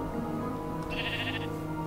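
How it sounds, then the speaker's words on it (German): A single sheep bleat in Minecraft rises briefly over a steady low game background hum, heard alone with no talk. "Oh Gott, sind hier viele Schafe."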